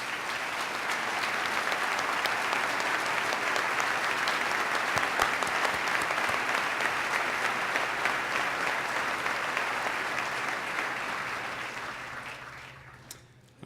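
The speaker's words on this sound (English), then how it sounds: "I'd ask him to stand so we can give him a round of applause." Sustained applause from a large audience at a State of the State address in New York, honoring a community leader standing to be recognized; dense, even clapping lasting over ten seconds before tapering off.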